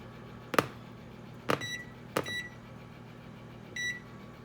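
An oven timer being set for 25 minutes gives three short sharp beeps about a second apart, then a fourth after a gap, faint hum behind, no talking.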